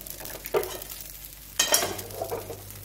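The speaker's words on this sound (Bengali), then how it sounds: "পুরোটাই ভালো করে ভাজবো।" Broken wheat dalia frying in a pan for khichuri, with two or three loud, close stirring scrapes over a soft, continuous sizzle.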